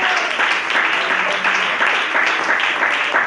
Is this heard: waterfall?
no